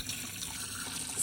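Brine poured over pickles, cucumbers and spices in a pickling jar, a short steady splash of liquid close by, swelling slightly at the end.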